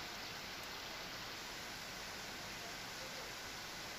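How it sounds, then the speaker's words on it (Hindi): Heavy rain in Indian news footage of flooded streets and homes comes through as a dense, steady hiss, constant and even throughout with no talk over it. "तेज बारिश थी"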